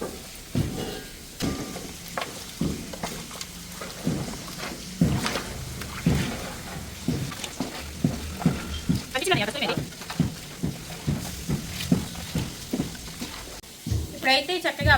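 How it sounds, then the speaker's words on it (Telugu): A spoon stirs spice paste for chicken dum biryani, mixing in a large batch, with repeated scraping and squelching strokes in a steady rhythm while a person talks throughout. "ఇప్పుడు మొత్తం ఇది మిక్స్ అయ్యే విధంగా ఒకసారి కలిపేసుకుందాం"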